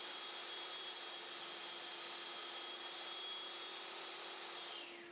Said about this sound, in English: I'll open the blast gate for the table saw and start cutting